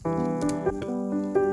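Swelling reversed piano tones rise into each other, softened by echoing delay and a gentle wavering tremolo, alone and fairly close.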